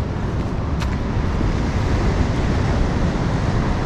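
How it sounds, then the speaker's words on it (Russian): Broad steady roar of sea surf on a beach at Lazarevskoye, Sochi, in the evening after a storm, waves washing continuously up close with wind noise and no distinct breaks, no talking. "А вот море, похоже, немножечко успокоилось"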